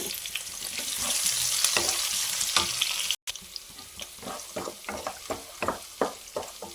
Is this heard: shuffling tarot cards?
no